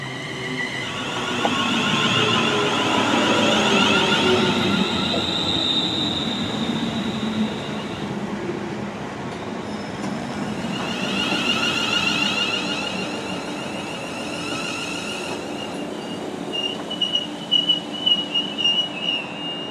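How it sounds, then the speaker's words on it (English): A British passenger train arriving at a station near Chester, wheels squealing and screeching over the rails as it rolls in, with a loud steady rumble that swells twice before settling, no voices heard. "our train should be arriving now to get us there so we can catch that 158"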